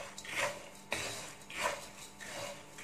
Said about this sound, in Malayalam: ഇതിലോട്ട് തന്നെ ഞാൻ ഈ പൊട്ടുകടലയും കൂടി ഒന്ന് ഇട്ട് വയ്ക്കും. പൊട്ടുകടലയും ഒന്ന് ഫ്രൈ ആയിക്കോട്ടെ.